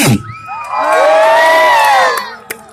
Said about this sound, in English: For the first runner-up, another round of applause, please.